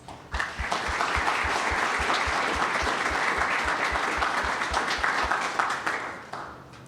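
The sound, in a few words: audience round of applause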